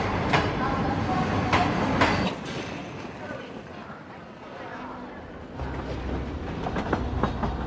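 A train rolls past on the railway with a steady rumble and rhythmic wheel clatter, moderately loud and building again toward the end, under a voice talking.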